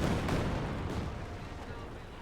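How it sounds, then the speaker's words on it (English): A Katyusha rocket barrage in Company of Heroes 2, a steady, dense rumble of launches and distant impacts, loud and continuous, slowly easing off. "Another Katyusha barrage here from PFC right after the pack crew there."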